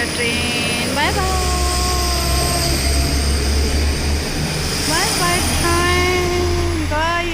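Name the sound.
train departing from station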